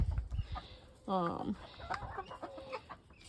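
Black Copper Marans hens cluck softly and intermittently on a farm, with one louder call standing out. A person talks quietly nearby.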